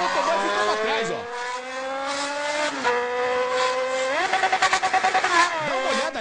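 A motorcycle racing at about 130 km/h between cars in the lane gap of a highway gives a loud, continuous engine whine that climbs and dips in pitch as it revs, with a rapid fluttering pulse near the end.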